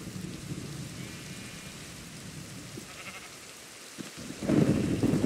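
Rain pours steadily during a thunderstorm in the Minecraft video game, a dense hiss with a louder rumbling thunder surge near the end; no voices.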